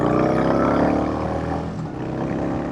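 A Yamaha Bolt 950 cruiser motorcycle with a 5-speed transmission rides down the highway, its steady engine drone blended with rushing wind, loud and continuous from the rider's position.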